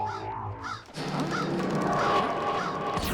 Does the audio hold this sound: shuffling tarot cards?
no